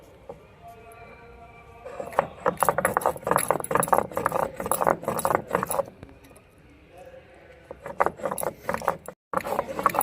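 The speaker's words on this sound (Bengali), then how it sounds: "তাই এলাচটা বেটে নিচ্ছি" Cardamom is ground into a paste for a banana-flower kofta curry, a clattering, rattling grind that runs in two bursts of several seconds separated by a brief lull.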